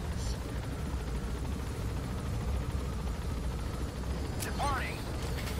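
A helicopter in the video game Metal Gear Solid V: The Phantom Pain gives a steady, dense rotor and engine drone that fills the whole stretch, with a brief chirping tone near the end.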